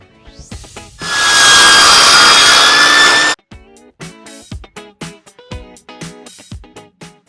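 A power saw cuts a luxury vinyl floor plank in one loud, steady whine lasting a couple of seconds, framed by close knocks, taps and handling clatter before and after.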